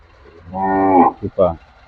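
A single close, loud moo from a cow at a Gir cow market, a long low bellow followed by two shorter grunting pulses, with faint background noise.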